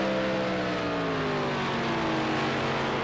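Group C race cars in Project Cars 2 on Xbox lapping the Nürburgring GP circuit, with engines roaring loud and close in a continuous drone whose pitch climbs slowly as they accelerate.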